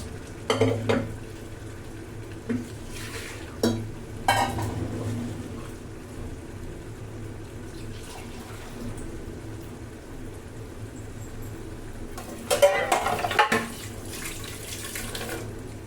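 Mashed dal and water are poured into a cooking pot in a home kitchen, making intermittent splashing and sloshing with clinks. There are quiet stretches between pours, and the splashing grows busier near the end.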